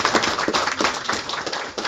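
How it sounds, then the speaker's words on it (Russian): Audience of schoolchildren applauding in a school classroom, dense steady clapping from many hands throughout, fairly loud and close with no talk over it. "Аплодируем, ребят"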